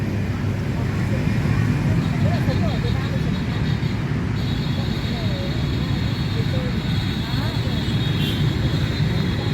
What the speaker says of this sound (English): you hear the sound of the traffic, especially since there are so many motorbikes in this country